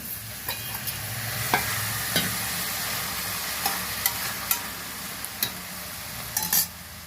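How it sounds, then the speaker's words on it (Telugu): Tomato pieces go into a hot pan of turmeric-spiced mixed vegetable dal. A constant sizzle runs under scattered sharp spoon clicks and knocks against the metal. "ఇప్పుడు టమాటా మొక్కలు వేసేస్తున్నాను"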